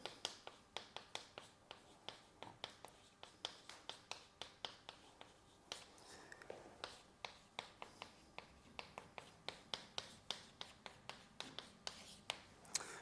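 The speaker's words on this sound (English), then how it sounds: "let me, as I said, write this down and then explain what I have written." Chalk tapping and scratching across a board during a mathematics lecture, a steady run of sharp, close strokes and clicks with brief pauses, no talking.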